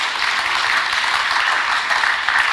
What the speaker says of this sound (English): Yeah, round of applause